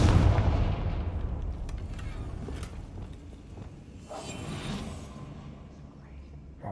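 A Confringo fire spell is cast in Hogwarts Legacy, giving a booming blast like a gunshot. Fainter impacts and rumbles follow as the fight goes on, with a voice speaking over parts of it.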